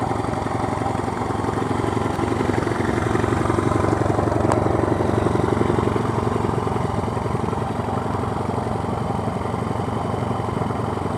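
A Great Escape tribute motorcycle fitted with a new vintage chrome exhaust runs steadily close by, a continuous low throbbing engine note with slight clatter, fairly loud and unbroken throughout with no talking.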